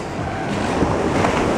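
Ocean waves at a beach at high tide, a steady loud wash of surf with wind rumbling over the microphone and no pauses.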